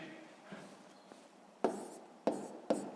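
Pen strokes write numbers by hand on paper for a long division problem, faint scratching first, then several sharper taps and scrapes, close and quiet.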